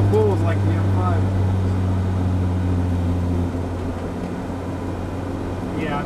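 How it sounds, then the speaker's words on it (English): A Lotus sports car's engine drones steadily from inside the cabin during a night drive, a low continuous hum with people talking over it. "when I shift from fifth to sixth, it still pulls like the M5."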